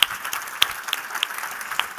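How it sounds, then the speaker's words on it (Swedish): An audience at a Swedish presentation event claps warmly, a dense patter of hands with a few sharper claps standing out, steady and fairly close throughout. "Ge honom en varm applåd"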